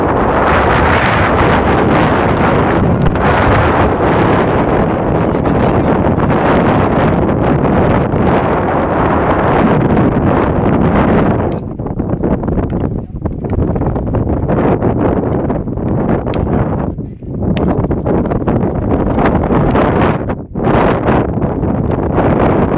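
Strong outdoor wind at a basketball court buffets the microphone with loud, continuous roaring rumble, easing briefly in a few dips before surging again, with no voices standing out.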